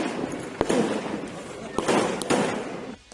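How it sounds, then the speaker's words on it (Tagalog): A rapid string of sharp gunshot cracks rings out during an ambush on a vice mayor, several bursts spread across the moment, somewhat distant and echoing amid street noise. "bigla silang makarinig ng sunod-sunod na putok ng baril"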